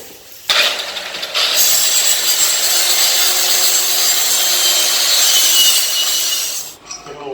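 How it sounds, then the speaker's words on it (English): Steady, loud abrasive grinding and scrubbing as metal on a boat propeller is cleaned and prepped for welding, starting abruptly and running continuously for several seconds before cutting off. "We've got to prep the metal, which means try to get rid of whatever debris in the way and clean it for a weld."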